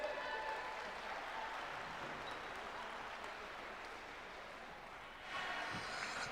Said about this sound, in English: Let's give Spencer a big round of applause